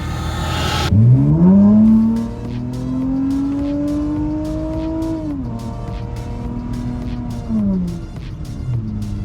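A Honda engine revs hard as VTEC kicks in on a snowy back road, the pitch climbing into a loud howl, easing, then climbing again, heard close from inside the car.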